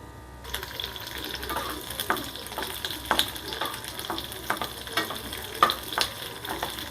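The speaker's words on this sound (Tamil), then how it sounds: "கேப்சிகம் ஆனியன் நல்லா ஃப்ரை பண்ணி எடுத்துருவோம்." Capsicum and onion fry in about three teaspoons of oil in a kadai, a steady close sizzle stirred now and then with sharp scraping clicks, no voices.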